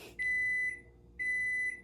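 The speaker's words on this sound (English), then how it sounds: "My baked beans are done in the microwave." A microwave oven signals that heated baked beans are done with two clear electronic beeps, each about half a second long, fairly close in a quiet room.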